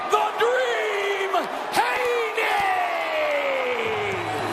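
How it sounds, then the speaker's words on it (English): Sold-out boxing arena crowd roaring and cheering for a fighter's ring entrance, a loud continuous wash of voices with whoops and shouts swelling and sustained throughout. "This sold-out crowd is on fire. It is buzzing in here"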